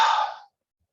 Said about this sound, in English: Start with all the breath out.